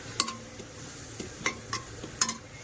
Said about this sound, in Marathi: तर हे चांगलं परतून घेऊया.